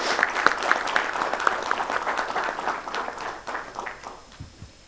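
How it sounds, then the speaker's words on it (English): A conference audience claps for a keynote speaker at a fund administration summit in India. The applause is dense and sustained and fades toward the end. "let's give another huge round of applause for Mr."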